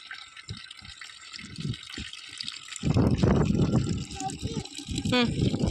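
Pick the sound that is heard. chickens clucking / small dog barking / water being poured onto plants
water being poured onto plants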